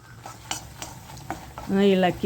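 Rasam with turmeric and salt is stirred in a pot on the stove, giving a few soft scrapes and taps, followed by a brief voice near the end.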